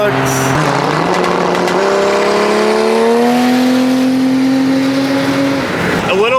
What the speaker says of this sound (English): I'm flooring it in the Maxima.